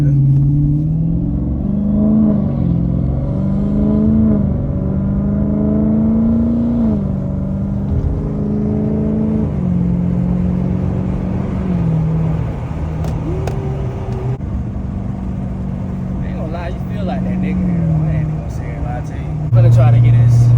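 A Dodge Charger Scat Pack with the 392 engine rumbles and revs from the driver's seat, its engine tone rising and falling steadily over about twenty seconds while music and a voice run beneath it.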